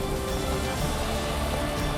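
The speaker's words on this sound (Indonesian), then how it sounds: "Hujan deras yang mengguyur kota Merauke sejak pukul pagi hingga siang menyebabkan sejumlah kawasan tergenang air." Heavy rain pours steadily over the town of Merauke, a dense, even hiss of falling water that stays constant throughout with no voices.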